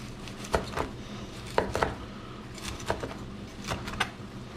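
A kitchen knife trims parsley stems on a cutting board at home, making close, irregular chopping taps and short cutting strokes with a faint metallic clink, no talk.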